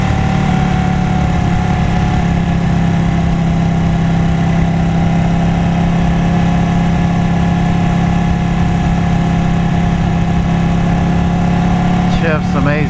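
A Ducati Panigale 899 sport motorcycle's engine drones loud and steady on a ride, a constant throaty hum with strong harmonics and no clear breaks.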